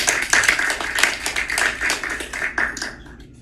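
Audience applause after startup demo-day presentations at a university startup lab, a brisk, dense round of many hands clapping at close range, steady for about three seconds before tapering off quickly at the end.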